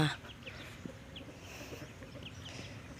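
Chickens cluck in scattered, faint bursts on a rural Thai homestead where ducks and chickens are raised beside sugarcane and banana plants, heard over a low outdoor background.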